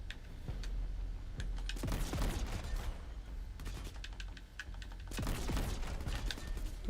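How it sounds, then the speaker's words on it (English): Artillery fire and explosions in the video game Crackdown 3, with heavy booming blasts and crackling impacts arriving in bursts and overlapping into a dense, continuous barrage. "They bringing in artillery."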